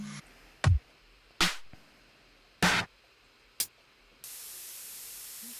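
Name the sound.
white noise layered over a music track to blend it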